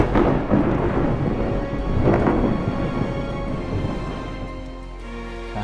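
Lightning attack thunder in a Minecraft Fairy Tail game, a loud rumbling crackle with surging bursts near the start and around two seconds, fading into a sustained low roar with a tonal hum near the end.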